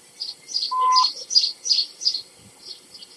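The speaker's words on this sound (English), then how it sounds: "overhead the birds sang merrily" Birds sing in a forest, a series of bright, repeated high chirps and tweets with one clear whistled note, moderately close and heard alone.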